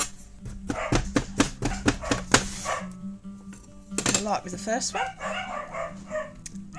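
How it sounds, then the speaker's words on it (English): Several dogs bark in short bursts and yips in the background of a kitchen or workshop while a person talks over them, with a few sharper clustered barks partway through. "excuse the dogs"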